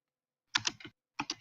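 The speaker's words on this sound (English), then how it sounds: "Turn off the microphone when you're typing." Two short bursts of clicking keystrokes on a computer keyboard, a quick cluster of three taps followed after a pause by another few, close and fairly quiet.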